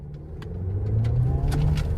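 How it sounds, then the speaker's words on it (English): 2026 Chevy Colorado WT truck at full throttle from idle, a close engine roar rising steadily in pitch and loudness with a deep rumble underneath. "maybe I'll just go off of idle and then I'll go full throttle and we'll see what it does"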